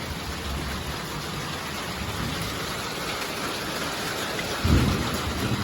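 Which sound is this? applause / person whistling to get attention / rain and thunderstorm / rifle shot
rain and thunderstorm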